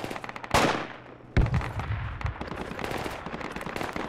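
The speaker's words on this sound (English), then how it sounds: "I'm taking fire from the northwest of the mark." Bursts of incoming gunfire in the military shooter game Project Reality: sharp, loud cracks at about half a second and a second and a half, then a steady patter of smaller shots trailing off in the distance.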